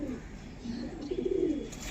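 A pigeon that has been sitting on eggs gives a low, soft, rolling coo, one drawn-out call close by.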